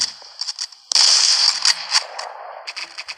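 Rapid bursts of MP40 submachine gun fire in the WWII video game Ghost of War, crackling in short clustered volleys with brief gaps, loud and close, with no talk over them.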